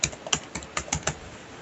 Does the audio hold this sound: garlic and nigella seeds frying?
no